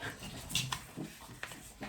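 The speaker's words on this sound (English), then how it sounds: "Apologies if you can hear the panting." A dog pants softly nearby in an indoor room, with faint, breathy, uneven puffs repeating throughout.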